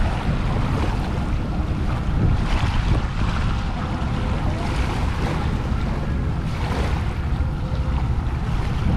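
Sea waves at Manila Bay wash steadily against the shore, a continuous rolling surf with gusts of wind buffeting the microphone throughout.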